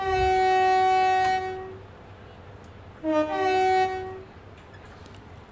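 Two long train horn blasts from a locomotive in the railway simulator game Train Sim World 4, a fast local train about to depart a station; a sustained, loud harmonic chord, then a second shorter blast after a pause.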